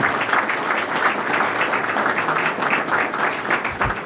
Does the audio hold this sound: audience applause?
yes